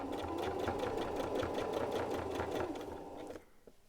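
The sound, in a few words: sewing machine stitching t-shirt neckband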